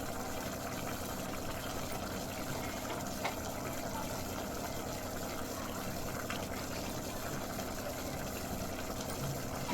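Paneer and cashew pulao boiling in a pot, a continuous dense bubbling and simmering that stays steady and close throughout with no talk.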